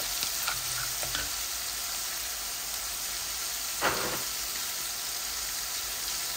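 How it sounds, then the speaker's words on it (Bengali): Garlic frying in hot oil in a pan with fish, a steady close sizzle with a few light stirring clinks and one brief louder hiss, no talk. "মাছ রান্না করতেছি, তো অল্প একটু রসুনও দিচ্ছি এটার সাথে"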